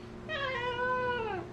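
An indoor cat gives a single drawn-out meow, close and clear, rising then falling in pitch, with no talking over it.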